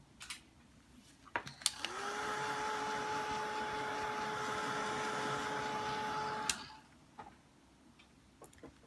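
A rinsed stamp, just used with Distress Crayons, is dried with a steady whirring, whining blower that runs for about five seconds and then cuts off, with a few light clicks before and after.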